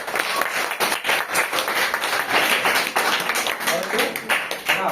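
Children at a primary school quiz break into loud applause for a correct answer, a dense crowd of rapid clapping that runs through the whole stretch with some voices mixed in.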